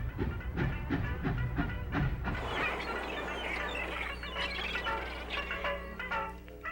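A CN passenger train rolling on rails toward Muskoka, its wheels clacking in a steady rhythm with a low rumble and a hiss of steam or air, close and continuous throughout.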